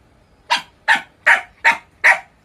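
A tethered pet dog in a household that also keeps cats barks five times, each bark sharp and close, spaced in an even rhythm about half a second apart with quiet gaps between.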